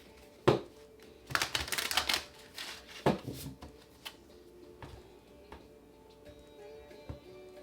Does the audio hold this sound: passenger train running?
no